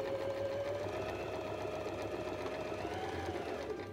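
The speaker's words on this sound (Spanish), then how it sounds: "Ubicamos en la máquina y realizamos una costura recta." A sewing machine runs a straight seam along fabric tape, a quiet, steady mechanical whirr with a rapid even needle rhythm lasting the full few seconds.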